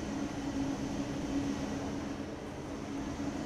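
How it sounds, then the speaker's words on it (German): An ICE1 high-speed train pulls out of Würzburg Hauptbahnhof in Train Sim World 3, a quiet, steady low rumble with a faint sustained tonal hum and no distinct events. "während hier schon der erste ICE1 abfährt"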